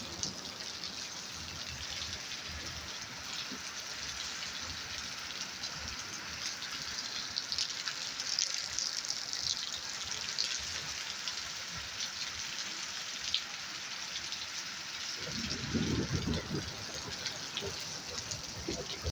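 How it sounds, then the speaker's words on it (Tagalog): Continuous rain falls in a storm in a Pakistani village with an even hiss over many seconds, with a stronger low gush near the end. "Rain is coming again"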